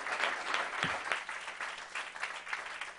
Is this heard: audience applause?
yes